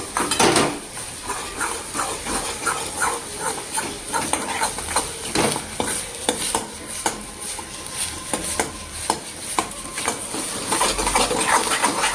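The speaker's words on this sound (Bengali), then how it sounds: "দুটো ডিম দিয়েছি, এবার এটাকে ভালো করে নেড়ে নিতে হবে।" Two eggs are stirred in a pan with a metal spatula while they fry, the utensil clicking and scraping against the pan in a steady rhythm over a soft sizzle, close up and without talk.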